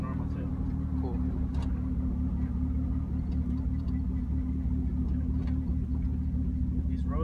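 A Mitsubishi Eclipse engine runs close by with a deep, continuous rumble that stays level throughout, while voices murmur faintly over it.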